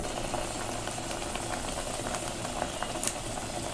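Slit green chillies fry in a pan of oil for a vegetable rice dish, a steady close sizzle and bubbling with a few faint sharp pops.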